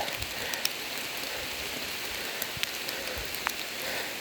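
Steady rain falling at a Thai temple, with a soft continuous patter and occasional louder drips landing nearby.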